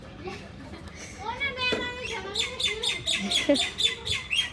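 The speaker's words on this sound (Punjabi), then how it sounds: "ਸਾਰੇ ਚਿੜੀਆਂ ਹੀ ਕਰਦੀਆਂ ਚੀ ਚੀ" Sparrows chirping outdoors near a home, giving a rapid run of repeated high, bright chirps that grows busier toward the end, mixed with other faint bird calls.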